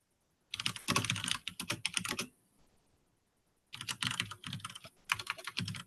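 Fast typing on a computer keyboard during a user call, heard as two bursts of dense, rapid key clicks separated by a quiet pause of about a second and a half.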